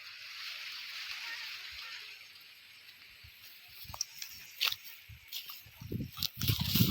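Borewell water drilled to about 150 feet on a farm gushes out with a steady hissing rush, then turns into uneven splashing and spattering as it pours, with people talking nearby.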